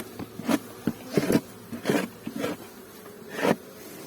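Honey bees buzz close by at a hive in spring, in irregular swells, droning rising and fading over a few seconds with no voices.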